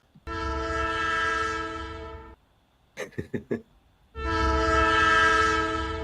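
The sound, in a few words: freight train sound effect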